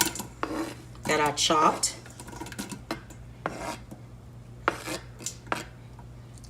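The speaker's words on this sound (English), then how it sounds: "to my oil, I'm gonna add some onions" Chopped onions go into oil in a cooking pot, bringing bursts of clatter and scraping from the pot and utensils over a low steady hum. A voice speaks briefly between the bursts.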